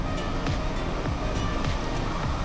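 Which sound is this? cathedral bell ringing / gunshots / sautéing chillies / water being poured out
water being poured out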